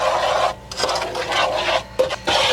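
Caster sugar and vanilla stirred together in a pot with a utensil while baking a cake in a campervan, a loud close rasping scrape in repeated strokes with brief pauses between them.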